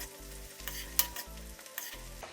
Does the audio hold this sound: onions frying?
yes